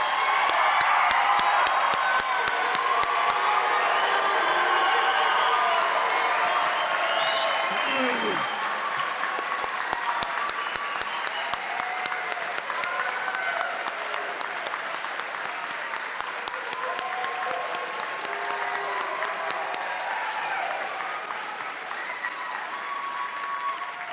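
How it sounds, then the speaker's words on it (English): A crowd fills a fire and rescue recruit class graduation ceremony with sustained applause, loud and steady at first and gradually tapering, with a few scattered cheers and whoops. "If we could now give them a round of applause."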